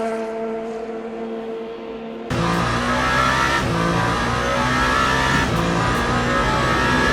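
A race car's engine in the Le Mans Ultimate racing game roars loud and close with a sustained, harmonic-rich note that suddenly swells louder partway through as the car brakes hard between corners.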